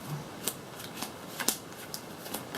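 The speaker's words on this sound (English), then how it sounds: "we'll do a quick shuffle here" A deck of Magic: The Gathering cards is shuffled close by, giving a steady soft riffling rasp with several sharper snaps, quiet and with no voice over it.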